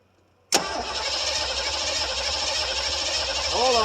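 A 1973 Ford Gran Torino Sport with a 351 Cleveland V8, off the road for 30 years, fires up after a sudden cranking burst and settles into a loud, rough, steady idle close by, with voices heard briefly near the end.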